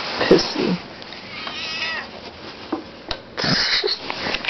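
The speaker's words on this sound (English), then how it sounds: "he's probably gonna annoy me for a while and meow" A cat meows indoors, with several short, loud cries spread across the stretch, some close together, while a voice talks intermittently in between.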